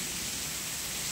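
A hailstorm lashes down with strong wind and rain, forming a steady, dense roar of falling water and gusts that holds constant and fairly close throughout, with no voices.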